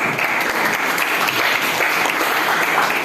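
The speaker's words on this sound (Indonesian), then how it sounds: "Silakan tepuk tangan dulu." A classroom of students claps for a presenting group, a dense, even burst of hand clapping filling the room at close range with no talking over it.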